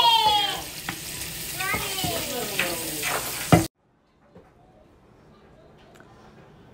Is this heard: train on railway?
no